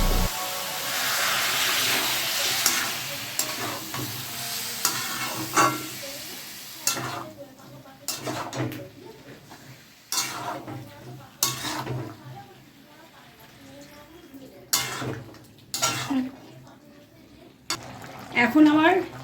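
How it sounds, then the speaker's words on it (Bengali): Water is poured into sizzling jackfruit curry in a pan, bringing a loud hiss that fades, then scattered clanks of a spoon against the pan and bubbling, with a voice talking at times. "জল ঢেলে দেবো।"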